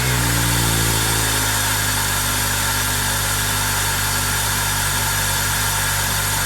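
A Honda Accord engine running steadily with a newly fitted exhaust, a constant droning idle with a slight rev change at the start, loud and close with no talking.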